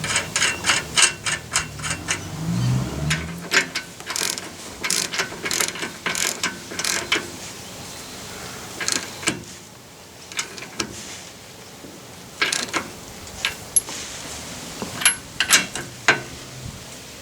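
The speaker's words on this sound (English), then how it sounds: "So we'll just tighten up the new nut." A ratchet tightens the new nut on a car's tie rod end, making long runs of close, loud, rapid clicks in bursts with brief pauses and metallic knocks.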